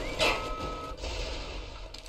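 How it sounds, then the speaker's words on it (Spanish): Alarm in BioShock, a steady electronic beeping tone that sounds briefly near the start, then a faint repeating beep over a constant low hum. "¿Por qué se me ha activado la alarma?"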